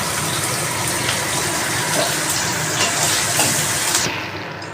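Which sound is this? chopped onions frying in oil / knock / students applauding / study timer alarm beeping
chopped onions frying in oil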